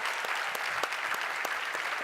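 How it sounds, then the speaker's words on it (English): Steady applause from an audience at a legal technology pitch competition, greeting the finalists, fairly faint and even throughout with no break. "So let's give a huge round of applause for our finalists."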